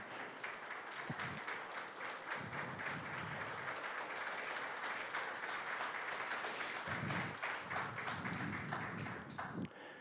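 Church congregation applauding during a sermon, a sustained, even wash of clapping from many hands, fairly faint and distant, running the whole time with a few brief low rumbles.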